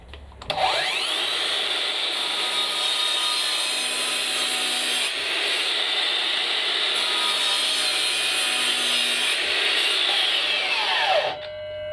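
A Makita 36V DLS111 mitre saw with a very blunt 40-tooth blade and no dust extraction spins up loud and close, grinds steadily through wood for about eleven seconds, then winds down.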